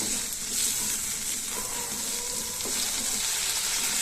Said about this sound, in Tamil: இப்போ தக்காளியையும் லைட்டா வதக்கிக்கலாம்.